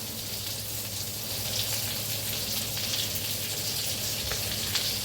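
Masala spice paste roasts in a hot pan with a steady, close sizzle and faint crackle that runs evenly throughout, with occasional light scraping and no voices.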